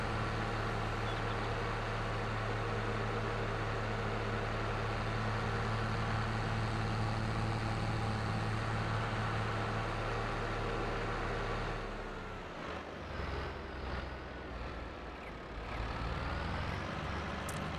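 A tractor engine in a farming video game drives over rough roads, a steady loud drone with rumbling low end that holds for about twelve seconds, then shifts and thins as the vehicle slows or turns.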